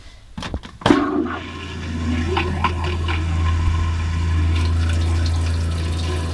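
An RV toilet being flushed with pink antifreeze: a couple of sharp clunks of the flush mechanism, then a steady rushing of liquid with a low pump hum, close and moderately loud.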